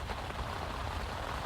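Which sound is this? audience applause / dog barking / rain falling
rain falling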